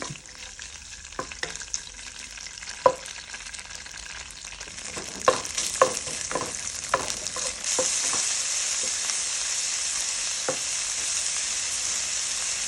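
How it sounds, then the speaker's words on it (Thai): Tofu fries in oil for pad thai, a continuous close sizzle that grows louder and hissier partway through, with sharp clinks and scrapes of a utensil stirring in the pan. "เริ่มจากการเอาเต้าหู้ลงไปทอดในน้ำมัน ให้เต้าหู้มีความเหลืองสักนิดนิด"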